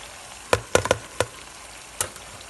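Sausage going into a hot pan, a faint continuous sizzle with several sharp clattering knocks as pieces land and are moved around, no voices.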